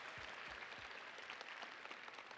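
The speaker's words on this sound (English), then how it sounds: "How about another round of applause for the Summerland crew" A crowd in a school setting claps in a brief, dense burst of applause for the Summerland Secondary student crew, heard at a moderate distance.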